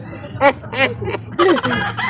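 Chickens cluck in short bursts, a few close calls spaced across the moment with a low steady hum beneath.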